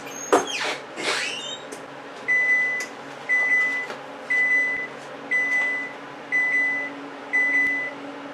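Kitchen oven signalling that it has reached 350 degrees: a clatter of handling noise at the start, then a series of seven evenly spaced electronic beeps, loud and close, in an otherwise quiet room.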